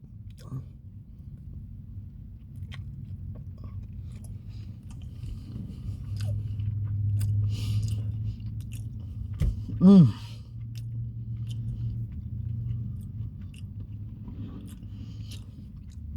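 Someone chews a limited-time Taco Bell item topped with sauce, giving soft wet bites and one sharper crunch over a low steady hum, with quiet speech at times.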